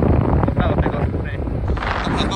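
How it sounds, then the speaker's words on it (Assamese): Strong wind blows near a bridge, buffeting the microphone in loud, continuous gusts and rumbling roar throughout. "কিমান বতাহ আহে এইফালে"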